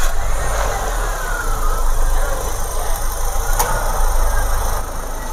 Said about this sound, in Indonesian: Di sini mesin sudah saya hidupkan.